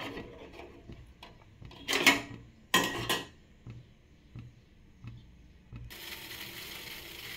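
A metal pot is set down on a kitchen stove to boil a coriander seed decoction, two sharp close clanks a moment apart, followed by a steady soft burner hiss.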